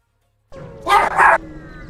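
A dog barks twice in quick succession, close and loud, cutting through a quiet background with a faint engine-like hum.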